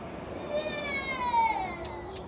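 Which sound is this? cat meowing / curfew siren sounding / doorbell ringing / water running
cat meowing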